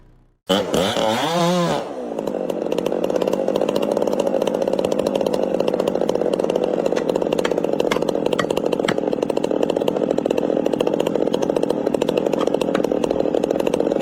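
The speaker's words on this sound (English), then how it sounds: "used a steel chainsaw to cut hard into the trunk of an ancient tree" A steel chainsaw revs up and then roars steadily and loudly as it bites into the trunk of an ancient tree, close and continuous with no voices.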